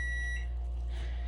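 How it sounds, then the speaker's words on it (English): A kitchen stove beeping to signal it has finished preheating for buttermilk biscuits: a faint electronic tone heard close by over a low steady hum, no talking. "That's the sound of the stove saying, put them biscuits in there."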